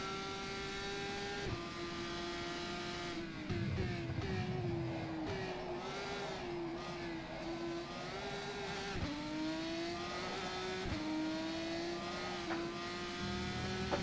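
GP3 formula car in rFactor 2 at Dubai, its engine pitch climbing steadily through the gears with short drops at each upshift, loud and continuous with no talk.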